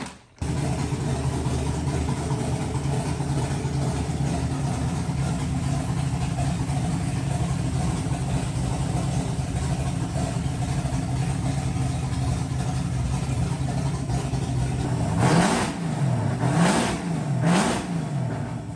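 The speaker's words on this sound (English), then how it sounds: "you fire the car up, you put it in neutral, and add the rest while the car is running" A Ford Mustang engine idles steadily in neutral during a transmission pan replacement, a continuous low rumble near and alone, with a few short revs rising and falling near the end.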